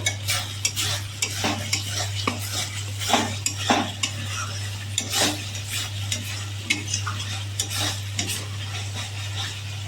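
Jackfruit and potato cook with spices in a pan, giving a continuous sizzle under frequent scraping and clinking stirs of a metal utensil. A steady low hum runs underneath, and no one speaks.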